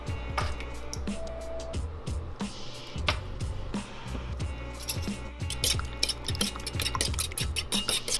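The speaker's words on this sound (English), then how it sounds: "in this bowl I have 1 egg, and then I'm going to mix my heavy cream in there as well" Egg and heavy cream whisked together in a bowl, a steady run of quick clinking and sloshing strokes close by, continuing throughout without pause.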